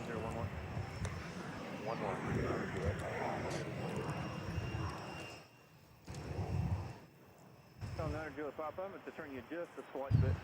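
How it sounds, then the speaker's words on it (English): A Southwest Airlines Boeing 737 airliner at Nashville International Airport produces a distant rumbling engine roar, rising and falling under steady talking. "behind him is a Southwest with no call sign and a 737."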